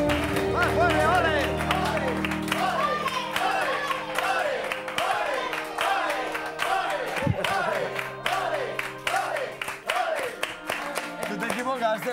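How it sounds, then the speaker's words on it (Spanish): A studio audience on a Spanish TV show claps steadily throughout, partly masked by a loud, sing-song voice calling out over it. "Fuerte aplauso para David Fernández"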